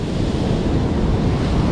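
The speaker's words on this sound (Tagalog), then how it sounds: "Malakas pala yung Alon ngayon kaysa kahapon." Heavy ocean surf pounds the shore during a storm, a dense continuous roar of crashing waves mixed with strong wind buffeting the microphone.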